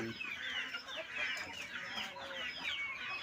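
Free-range farmyard chickens cluck and chatter in overlapping calls nearby, a busy flock sound with no voices.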